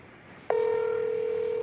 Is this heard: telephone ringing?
yes